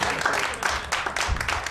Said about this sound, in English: One more big round of applause for Tyler.